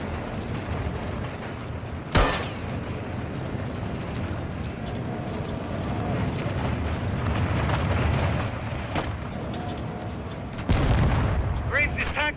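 C4 charges blowing up Graves' tank in Call of Duty: Modern Warfare II (2022), heard as two heavy booming blasts over a rumbling combat soundscape, with game dialogue in the mix.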